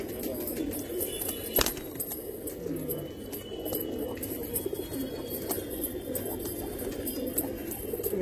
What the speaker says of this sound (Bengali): আমার কাছে সবই অন্তর পায়রা